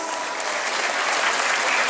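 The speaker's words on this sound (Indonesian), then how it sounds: "Indonesia sambil tepuk tangan dulu bos." An audience at a Balinese bondres comedy show claps steadily and densely for two seconds, loud and close, with no talking over it.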